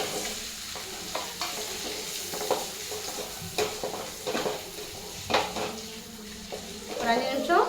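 Boiled egg pieces are stirred in a pan with spices, a soft sizzle under repeated utensil scrapes and clinks against the pan, fairly close, with a voice speaking now and then.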